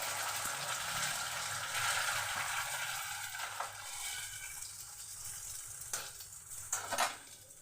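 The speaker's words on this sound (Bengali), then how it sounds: "কড়াই তেলটা আমার গরম হয়ে গেছে। এবার আমি এক এক করে ডিমগুলোতে ফাটিয়ে দিয়ে দেব।" Eggs cracked into hot oil in a wok, a steady crackling sizzle with a few scraping and tapping sounds of the pan, fairly quiet and continuous.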